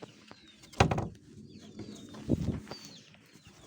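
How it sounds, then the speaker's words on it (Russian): Chicks kept in a brooder with sawdust bedding, thin high peeps and chirps scattered throughout, with a couple of louder close thumps or rustles nearby and a quiet background. "Цыплюшки"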